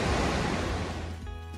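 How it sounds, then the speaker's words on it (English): Roar of Barron Falls near Cairns, Australia, heard from a high viewpoint as a loud, steady broadband rush of falling water that ends abruptly. "The waterfall's so loud you can hear it from all the way up here."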